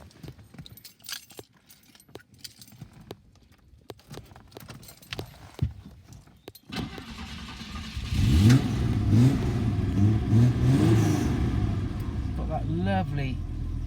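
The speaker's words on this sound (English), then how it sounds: "I'll fire the engine up to let you hear it" Fiat 130 Coupe V6 engine, after jangling keys and a few knocks, cranks and fires into a loud, close rasping idle with several rising revs, steady and alone.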